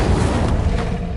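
An Incendio fire spell goes off in the video game Hogwarts Legacy as a short, dense, roaring burst of flame, loud and close and filling the whole moment.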